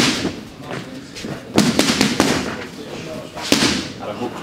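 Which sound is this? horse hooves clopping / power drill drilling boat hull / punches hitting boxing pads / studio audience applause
punches hitting boxing pads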